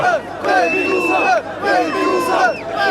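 A dense political rally crowd roars and chants as its leader arrives on stage, sustained loud shouting with rising calls and whistles filling the whole stretch, close and continuous.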